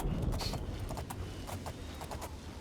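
Horse hooves in the video game Oblivion, a brisk repeated clip-clop of galloping at moderate distance, irregular hoof strikes over a low rumbling ground noise, with no talk.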